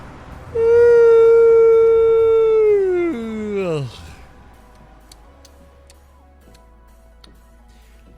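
Arnold the dog, downstairs in a house, lets out a single long drawn-out howl that slides down in pitch and fades, followed by quiet with faint ticking clicks.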